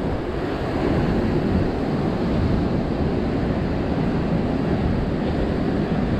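Sea waves wash onto the shore in a continuous loud, rushing roar, with wind buffeting the microphone and no voices.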